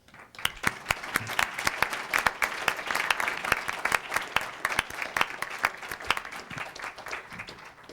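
An audience at a school board meeting claps in a steady, moderately loud round of applause, individual hand claps standing out sharply throughout.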